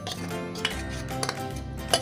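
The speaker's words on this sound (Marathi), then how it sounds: "हे बेसन आपण याच्यामध्ये ओतायचं आहे" Gram flour batter poured into a pan over a lit gas stove and stirred for a Maharashtrian kothimbir wadi snack, with steady scraping of a utensil and a few sharp metallic clinks against the pan.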